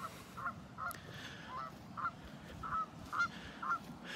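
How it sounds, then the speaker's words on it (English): Wild geese honking somewhere over a farm field, a string of about seven short nasal honks at a moderate distance over steady low background noise, with no talking. "We got some wild geese over there."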